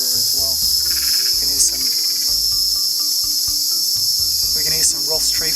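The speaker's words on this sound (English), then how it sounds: "We can hear some Ross tree frogs in the background." A dense night chorus of calling Roth's tree frogs and insects in the Australian outback, steady and continuous, with a constant high-pitched trill over layered croaks.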